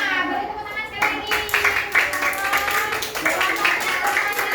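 A primary school classroom of children clapping their hands together in a brisk, fairly loud burst of applause, with a teacher's voice heard over it.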